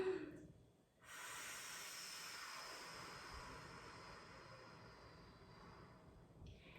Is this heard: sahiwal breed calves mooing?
no